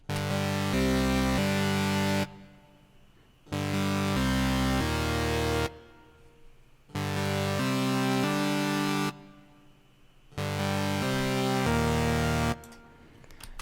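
A synth keys melody for a trap beat plays in bright chordal phrases, each lasting about two seconds and separated by near-silent gaps, repeating four times.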